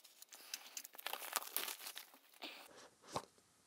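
Tangem crypto hardware wallet packaging crinkles and tears close up in a quiet room, a dense run of crisp crackling bursts with a few sharper rips, continuous for a few seconds with no talking.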